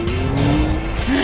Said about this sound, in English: This traffic is pissing me off!